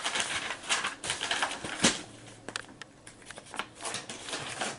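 A pen scratches across paper in short, uneven strokes up close, with irregular rustling and tapping bursts and faint background hum.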